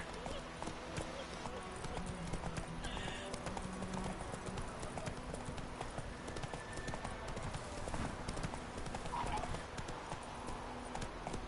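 Horse hooves clip-clopping at a steady trot in The Witcher video game, a continuous rhythmic patter under game music and ambience, with a character's voice speaking over it at times.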